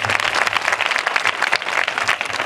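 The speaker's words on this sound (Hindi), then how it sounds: "ताली बजाएंगे?" A crowd at a church Christmas meeting breaks into applause, brisk and fairly loud, many hands clapping in a dense uneven patter for a couple of seconds.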